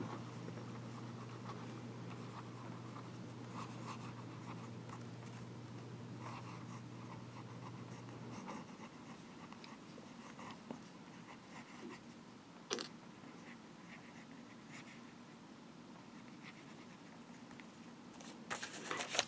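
Scratchy nib strokes from a Pineider Avatar fountain pen writing a quote on paper, a steady close rustling patter with brief pauses and a couple of sharper taps, no talking.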